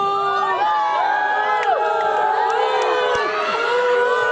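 A crowd of Warriors fans, many of them children, cheers and shouts at a talk-story event with Jerry Rice, a dense chorus of high excited voices and whoops held at steady loudness throughout.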